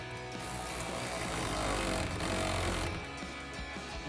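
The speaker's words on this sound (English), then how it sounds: "So we're gonna start with our front bolt." A ratchet with an 11mm socket tightens the front bolt of a Rough Country retractable bed cover on a Toyota Tacoma truck, a soft steady clicking and mechanical whir up close.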